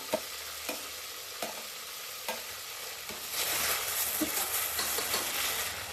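Chopped tomato sizzles in a pan of frying onions for chicken masala, with a few evenly spaced stirring scrapes that give way to a louder, steady sizzle.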